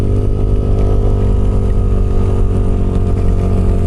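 A Yamaha Aerox scooter engine drones steadily at close range, a continuous even hum with no speech.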